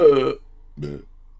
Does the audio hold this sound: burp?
yes